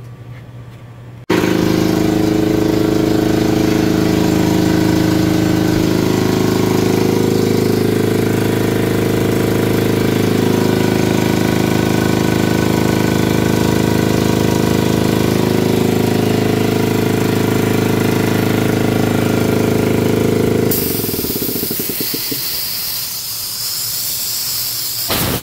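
An electric air compressor motor kicks on abruptly and runs loud and steady for about twenty seconds with a droning hum and hiss, then shuts off and winds down.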